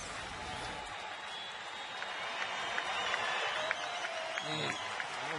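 Baseball crowd at a Pittsburgh at Houston game applauding a strikeout, a sustained wash of clapping and cheering that swells slightly, with a commentator talking over it.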